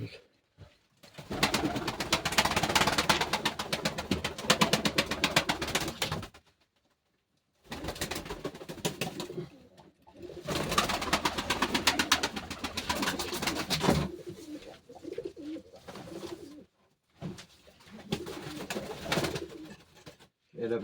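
Pet pigeons or doves cooing in bursts of soft, rolling coos close by, separated by short silences, with faint background voices at times.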